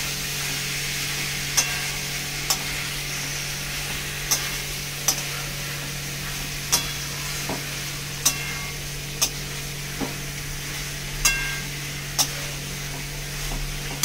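Prawns and banana flower being stirred into spice paste in a pan, a utensil tapping the pan at regular intervals over a constant low frying hiss, close by with no voices.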